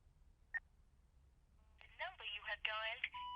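Telephone keypad tones as a number is dialed in a Hindi-dubbed South Indian action film, a single beep followed by a quick run of dialing tones, moderately loud with no talk over them.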